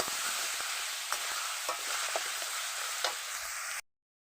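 Ground spice paste with turmeric and salt frying in a pan for a rohu fish-head curry with potato and kohlrabi, a steady close sizzle with a few soft stirring scrapes, cutting off abruptly near the end.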